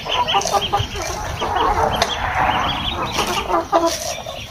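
Sixteen ducklings peeping and chirping in a busy cluster close by while being fed cut corn, a continuous chorus of small calls.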